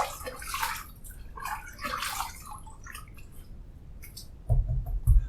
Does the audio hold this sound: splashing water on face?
yes